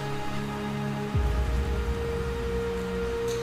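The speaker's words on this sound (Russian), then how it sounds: "там внизу идет проливной дождь" Steady heavy rain hisses throughout, with a low rumble entering partway through and continuing beneath the downpour.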